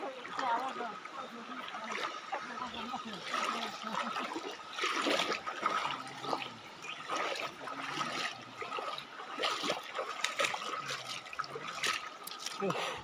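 Flowing stream water rushes and gurgles steadily throughout at close range, a continuous wash with small splashes, while faint voices are present.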